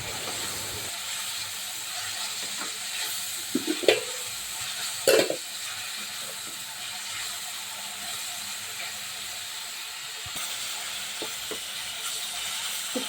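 Onions and green chillies fry in a pan over a wood-fired stove, giving a faint steady sizzle with a few sharp stirring clanks and clicks.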